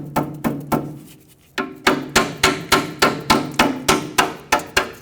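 A hammer taps a front brake hose through its bracket on a 1996-2002 Toyota 4Runner: sharp, close metallic knocks, three at first, a short pause, then a steady run of about a dozen evenly spaced blows.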